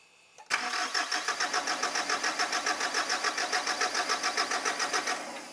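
The engine of a fire-damaged wrecker truck, just fitted in a swap, cranks with a rapid, even rhythmic churn after a sudden start. It keeps turning over loudly, with no voices.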